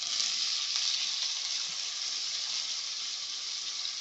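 Chopped onion, tomato and green chillies frying for masala dosa filling, a dense, even hiss of sizzling oil that carries on steadily throughout with only faint stirring.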